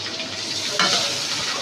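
A spoon stirs raw rice in a pot for polao, a short scraping swish over a steady hot sizzle, close and fairly loud with no talking.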